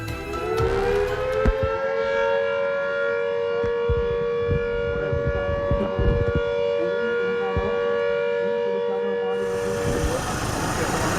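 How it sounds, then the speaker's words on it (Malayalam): Dam warning siren at Banasura Sagar in Wayanad, sounded before the shutters open during heavy monsoon rain: a long, steady wailing tone holds loud for about ten seconds over background traffic rumble, then cuts off. "ഇന്ന് പകൽ 10 മണിക്ക് മുന്നറിയിപ്പായി അപായ സൈറൻ മുഴങ്ങി"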